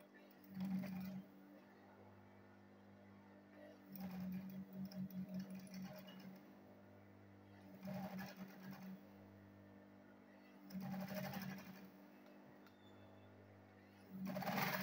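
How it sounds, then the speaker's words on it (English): A sewing machine stitching the lining of a leather handbag, running in four or five short bursts with quiet pauses between them, a steady low hum underneath throughout. "So let me go ahead and sew it straight."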